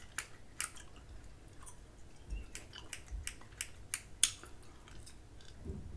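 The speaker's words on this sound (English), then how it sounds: "I'm gonna start cutting your hair. I have two scissors. I'm gonna start with the small" Small scissors snip hair close to the ear during a haircut role-play, giving a series of crisp, irregular metallic cuts with soft chewing sounds between them.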